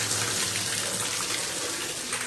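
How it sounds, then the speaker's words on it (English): A bathtub fills from the tap in a steady, close rush of running water that carries on alone without a break. "Let me just pour myself a nice bath."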